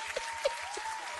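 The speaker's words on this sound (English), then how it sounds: "We just gonna have some claps, man." Clapping from an audience, a dense steady patter of applause at moderate level with a few sharper claps standing out, no talk over it.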